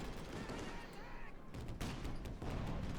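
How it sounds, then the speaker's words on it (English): Anti-tank gun fire from 6-pounder guns in Company of Heroes 2 battle, a few sharp broadband blasts among dense game combat noise, loud and continuous with other gunfire and a faint voice beneath. "6-pound guns trying to fire through the hedges"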